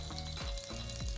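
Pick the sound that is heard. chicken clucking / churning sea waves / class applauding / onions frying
onions frying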